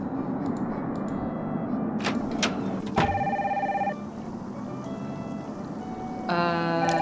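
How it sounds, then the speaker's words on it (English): A telephone rings in the Nancy Drew: Danger by Design video game, with two bursts of bright electronic ringing over steady ambient game background. "That phone is driving me crazy."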